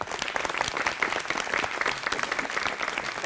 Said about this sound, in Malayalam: കൈയടിക്കുന്ന